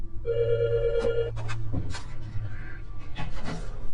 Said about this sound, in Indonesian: langsung disambut oleh panggilan telepon